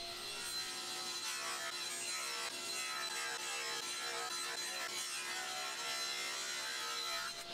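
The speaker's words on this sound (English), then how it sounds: "I can begin to cut down the walnut pieces into several strips" A hand saw cuts walnut pieces into strips in a woodworking shop, a quiet, steady rasping stroke repeating throughout without talk.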